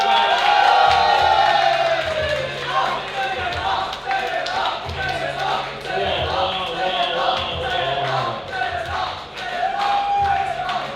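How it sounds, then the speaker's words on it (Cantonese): A crowd at a boxing event cheers, whoops and shouts for a red-corner fighter, with an announcer's voice and loud crowd noise rising and falling throughout. "要有請紅方選手朱元朗，俾啲掌聲佢。"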